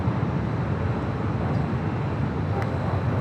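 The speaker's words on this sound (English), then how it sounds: "There is that 777-200 that came in from Chicago O'Hare" A Boeing 777-200 airliner taxis at LAX, a steady loud low jet rumble with broadband engine roar holding constant throughout.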